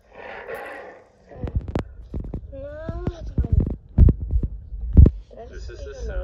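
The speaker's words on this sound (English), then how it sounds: "This is the sound a lion makes." A lion's call from an animal sounds app: a few low, throaty grunts and rumbling growls, close and fairly loud, broken by short pauses.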